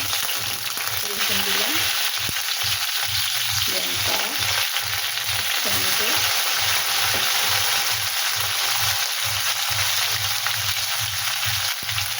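Oil heating and frying in a wok, a dense continuous sizzle that stays loud and even throughout with faint stirring underneath.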